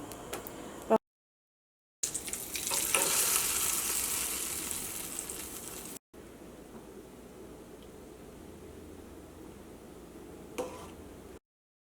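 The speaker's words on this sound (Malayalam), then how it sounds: "ഞാൻ ജസ്റ്റ് നെയ്യിലിട്ടിട്ടൊന്ന് മിക്സ് ചെയ്തിട്ട് എടുക്കും" Soft, steady sizzling as cashews are stirred in hot ghee in a pan, with an occasional light scrape of stirring and brief breaks of silence.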